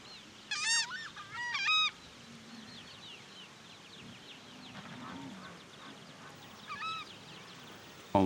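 A southern screamer (tacha) gives goose-like honking calls in the wild: two loud quick bursts early on, then fainter calls later, over a steady outdoor background.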